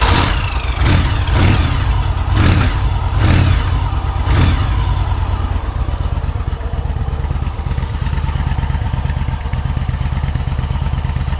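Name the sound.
motorcycle engine revving through exhaust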